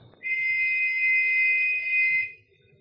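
A brass whistle gives one sustained, steady, shrill blast lasting about two seconds, loud and alone.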